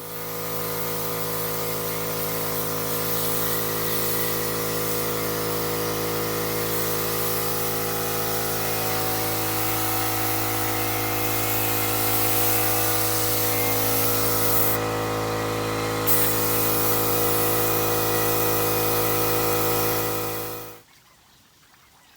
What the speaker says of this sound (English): see if we can use our paint sprayer to apply the paint rather than brushing it on